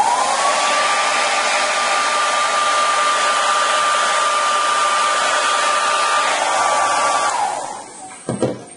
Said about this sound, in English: Blow dry it, which is right here.